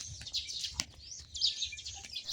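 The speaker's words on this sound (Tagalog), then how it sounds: "maririnig mo ang mga huni ng ibon" Small birds chirp and tweet in quick high bursts, fairly close, behind a house in Bicol, Philippines, with a faint low background hum beneath.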